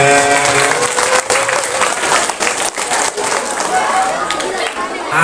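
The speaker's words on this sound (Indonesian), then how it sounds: "Tepuk tangannya mana?" Loud, close applause and cheering from an audience at a sixth-grade primary school farewell ceremony in Indonesia, with dense clapping and excited voices and shouts mixed throughout.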